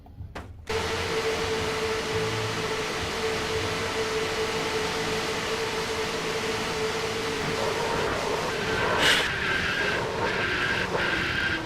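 A race car spins out in a stock-car racing video game at Talladega, its tire squeal and engine roar sustained and loud after an abrupt start, with another car whooshing past near the end.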